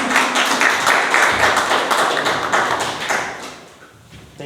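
A Toastmasters club meeting audience claps to welcome its club president, a dense run of close, steady applause that tapers off toward the end.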